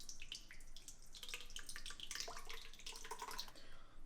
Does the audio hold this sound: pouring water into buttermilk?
yes